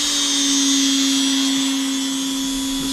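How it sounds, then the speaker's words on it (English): A CNC router spindle whines steadily at high speed, loud and close, with a constant tonal hum and no voices, already running at full speed for the whole stretch. "Let's turn on the spindle."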